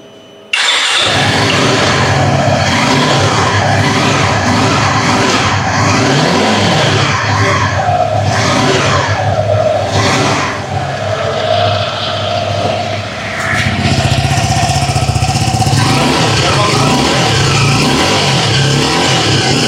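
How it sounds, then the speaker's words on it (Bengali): A 250cc motorcycle engine revs loudly and close for about twenty seconds, a steady roar rising and falling in pitch as the throttle is blipped and held. "এটার হচ্ছে সাউন্ডটা তো অবশ্যই শোনাইতে হয়, 250 সিসির সাউন্ড বলে কথা"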